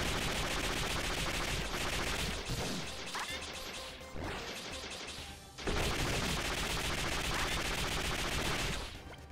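Rapid automatic gunfire from the video game Iconoclasts rattles loudly in two sustained bursts, with a brief dip in the middle and crashing impacts over the top.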